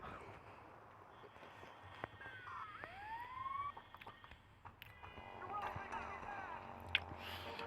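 A police siren wails in the video game GTA Vice City, its rising and falling tone faint beneath someone talking over game noise and clatter, with a brief sharper sound near the end.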